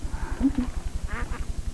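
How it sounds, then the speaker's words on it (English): A pet duck quacks a few times indoors, soft nasal quacks heard at moderate distance over a low, steady pulsing background. "Oh, what a darling little duck."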